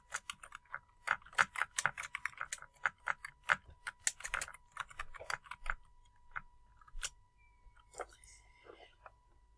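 Quick, irregular keystrokes clatter on a computer keyboard in bursts, close and fairly quiet, tapering off toward the end, with a faint voice murmuring underneath.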